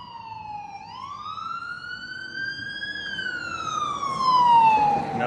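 An ambulance siren wails in a Strathcona city neighbourhood, a single long rising and falling tone that grows louder as it approaches, heard clearly over low street noise.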